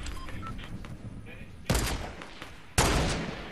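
Two sharp bursts of gunfire in a Fortnite Chapter 2 squads match, loud close cracks following quieter game sounds and faint background noise.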